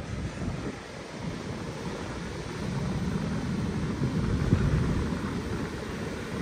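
Ocean waves surging onto a beach along the Great Ocean Road, a continuous broad wash of surf mixed with wind buffeting the microphone, steady and fairly close with a swell toward the end.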